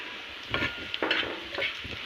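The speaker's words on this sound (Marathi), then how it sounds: "कांदा झाला फ्राय आपला" Sizzling onion frying in a hot pan with a few louder bursts of stirring and scraping, steady crackle underneath, no voices.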